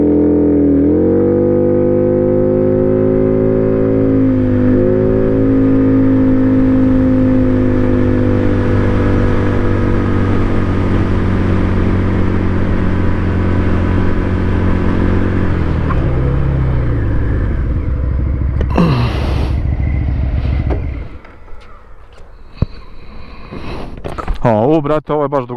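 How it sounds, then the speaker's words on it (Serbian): A Benda Chinchilla 350 CVT cruiser motorcycle braking hard from 80 km/h to a stop, its steady engine and road roar sliding down in pitch before cutting to quieter idle and wind with brief bumps near the end. "Kočenje 80 do 0."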